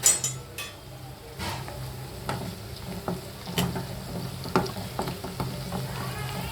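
Onions and green chillies frying in a pan for prawn curry, a steady sizzle with occasional stirring scrapes and light clinks of utensils, close by and fairly quiet with no talking.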